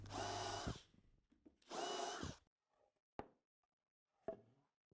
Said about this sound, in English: I can use these markers as a guide for where my screw holes need to be, which I'll pilot and countersink.